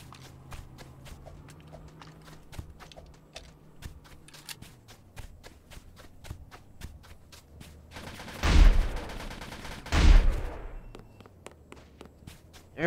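Shotgun blasts ring out in the Roblox game Polybattle: two loud, close shots stand out, each with a trailing ring, after a stretch of rapid light clicks and tapping footsteps.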